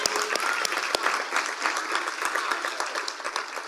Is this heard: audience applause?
yes